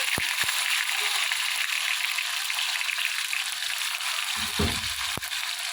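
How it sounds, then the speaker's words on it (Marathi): Tomatoes hit hot oil in a pan, setting off a loud, steady sizzle and fry that runs throughout, with a few sharp clicks and a brief low thump of stirring near the end. "आता मस्त ना असं तेल तापलेलं आहे टोमॅटो टाकूया"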